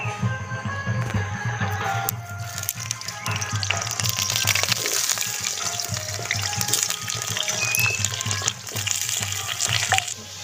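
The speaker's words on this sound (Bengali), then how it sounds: "এবার আলুগুলো ভেজে নেব।" Potatoes fry in mustard oil in a wok with a loud, dense, continuous crackling sizzle, close and steady, almost like rushing water.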